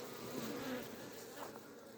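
A steady, dense insect drone of many bees buzzing close by in a hive, continuous and unbroken throughout.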